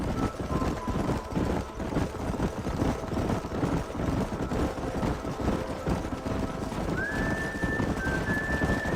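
Horses gallop in a Western canyon in the Red Dead Redemption game, a steady thud of many hooves under a dense, constant rumble with a faint tonal whine late on.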